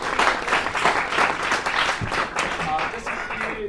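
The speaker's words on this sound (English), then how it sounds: "could everyone give him a round of applause" A workshop audience gives a round of applause, dense clapping filling the room steadily throughout with a few voices murmuring underneath.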